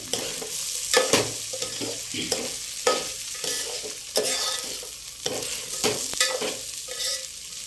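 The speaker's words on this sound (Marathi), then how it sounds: "अशा पद्धतीने तांदूळ परतवून घ्यायचे आहे" Rice being stir-fried in a pan for vegetable pulao: dry grains hiss and sizzle continuously while a spoon scrapes and stirs in irregular strokes, with louder clacks of utensil against the pan every second or so.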